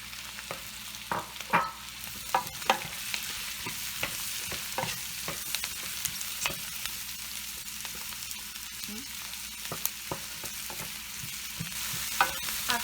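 Eggplant and mixed vegetables stir-frying in a pan for vegetarian pasta, with a steady close sizzle and repeated scraping, tapping stirs spread throughout.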